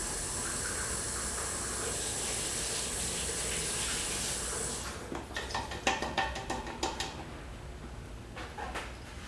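Running water hisses steadily from a tap for several seconds, then stops, followed by a series of irregular clatters and splashes as something is rinsed and handled nearby.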